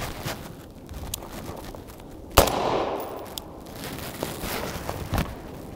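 A suppressed FN SCAR rifle fitted with a KNS gas regulator fires a single soft, muffled shot that decays quickly, with faint clatter and a few quieter taps before and after.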